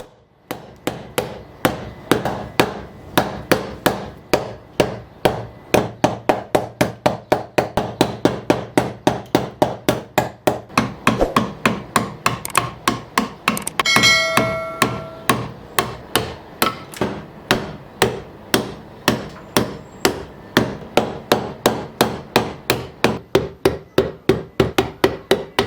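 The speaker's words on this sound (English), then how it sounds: "using chisels to remove the inside, as this was quicker than using discs" Mallet blows drive a chisel into walnut, hollowing the inside of a hand-carved fruit bowl; sharp woody knocks repeat steadily and close throughout, dozens of strikes in quick succession with a brief scraping pause midway.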